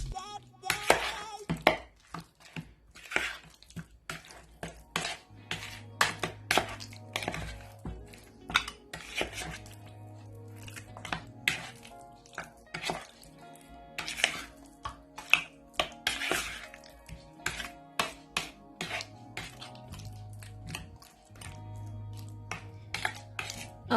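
Half a kilo of mutton leg is being mixed into masala for a Moroccan-style tajine with arbi. A metal spoon scrapes and taps the pot in quick, irregular strokes, and wet mixing sounds run close and steady throughout.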